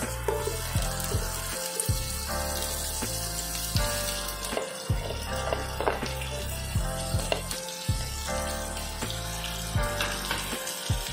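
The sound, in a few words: chopped onion frying in pan on medium flame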